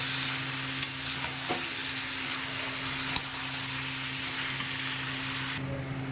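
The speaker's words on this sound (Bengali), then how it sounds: "রসুন বাটা, লঙ্কা গুঁড়ো, আদা, জিরে, ধনে বাটা। খুব ভালো কষিয়ে নেব।" A spice paste of garlic, chili, ginger, cumin and coriander fries in a pan with a steady close sizzle and occasional sharp utensil taps, over a constant low hum that cuts off near the end.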